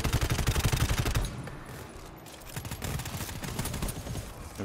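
Loud rapid bursts of gunfire in the modded video game GTFO, strongest at the start as a fast automatic volley, then easing before further quieter shots return near the end.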